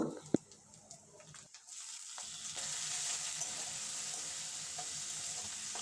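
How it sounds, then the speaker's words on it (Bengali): Ginger and garlic sizzle steadily in a pan while being stirred, a continuous frying hiss with a few sharp clicks at the start and a brief dip in the sound before the sizzling resumes, with no voices. "কিছুক্ষণ নাড়বো যাতে আদা রসুনের কাঁচা গন্ধ চলে যায়"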